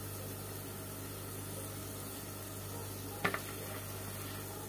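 Half-spoonfuls of sweet dessert batter frying in a pan of oil, a steady soft sizzle throughout with one brief clink of a spoon near the end.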